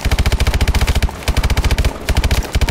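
Rapid automatic fire from the KF SMG in Call of Duty: Advanced Warfare, a loud, close stream of shots in quick bursts with brief gaps between volleys, no voices.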